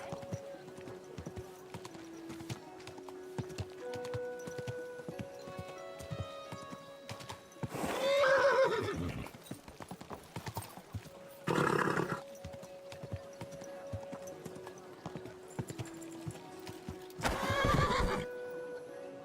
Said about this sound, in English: At least the horse got through.